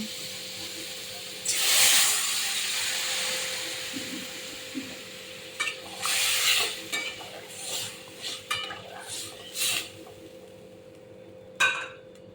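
Water added to ridge gourd and potatoes in a hot pan hisses and sizzles, followed by repeated scraping bursts of a spoon stirring the vegetables, with quieter gaps between strokes.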